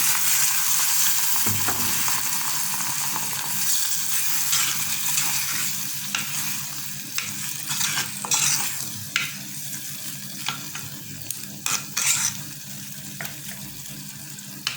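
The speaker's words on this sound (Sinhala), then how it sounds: "මේ විදිහට හොඳට කලවම් කරලා" Lotus root curry being stirred in a pan, with a continuous close hiss and sizzle and a series of scraping, knocking stirs of a utensil that grow more frequent toward the end; no talking.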